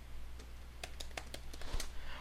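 Computer keyboard typing during ROBLOX Studio work: a handful of light, irregular key clicks, fairly faint, over a steady low hum.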